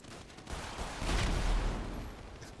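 A dense burst of rapid gunfire crackles and booms in GTA V, swelling to a loud peak midway before easing off, with no voices.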